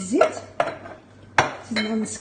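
Clinking of a utensil against a bowl in a few quick bursts while mixing butter, salt and sugar, with short scraping strokes between them, close up.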